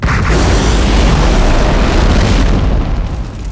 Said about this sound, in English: hitting the fortress with a great fiery explosion